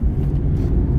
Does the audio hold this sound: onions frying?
no